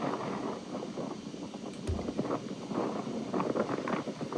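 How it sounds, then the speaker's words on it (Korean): Strong gusting wind buffets the microphone on a mountain summit beside a wind farm, a loud, rough, continuous roar with brief rustles and a short thump partway through. "풍력발전소가 있는 부근답게 바람이 굉장히 심하죠"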